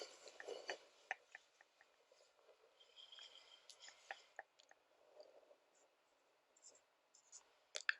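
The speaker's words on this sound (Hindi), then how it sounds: "ऊपर लिख देता हूं मैं" A pen or marker writes on a board in a quiet room, making soft, irregular scratches and taps in short strokes, with faint breathing between them.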